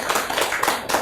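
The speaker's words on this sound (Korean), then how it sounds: "박수 한번 크게 부탁드립니다." A church congregation in Korea claps to welcome a visiting pastor, a short burst of brisk, dense applause.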